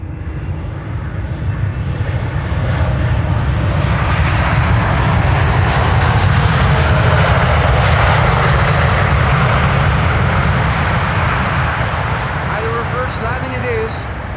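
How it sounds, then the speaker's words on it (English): Airliner landing at Amsterdam Schiphol with possible reverse thrust: a loud, sustained jet roar that swells toward the middle and eases slightly near the end, with a few faint clicks at the close. "Will they land with idle reversers, or will they start using the reversers?"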